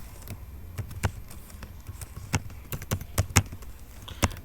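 Python code is typed on a computer keyboard in quick, irregular bursts of crisp, close key clicks with brief pauses between them, and no voices.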